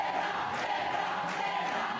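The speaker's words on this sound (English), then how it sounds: "Crowd getting behind Brenda Castro." Crowd noise from spectators at a CrossFit Open Workout 17.4 competition: a steady, dense roar of cheering and shouting, loud and continuous throughout with no clear pauses.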